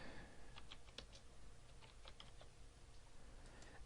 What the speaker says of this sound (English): you can type in a topic